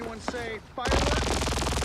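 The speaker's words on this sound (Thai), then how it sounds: "กูได้ยินเสียงปืนมึงละ" Rapid gunfire in Marvel Rivals bursts in after a brief lull, loud and continuous with sharp repeated shots, following some talk and a short clatter.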